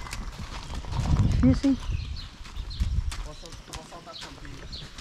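A mare's hooves clop on the ground at a horse farm, a few irregular, moderately close steps with a short whinny-like call, while someone talks over them.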